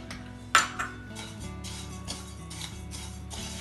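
Roasted peanuts tipped from a pan onto a plate, with one sharp metallic clank followed by a second and then a faint, steady rattle under a low background hum.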